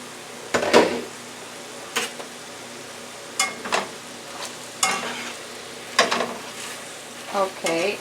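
Peppers and onions fry in a pan, a low sizzle beneath a series of separate sharp clinks and scrapes of a utensil against the cookware, spaced a second or so apart.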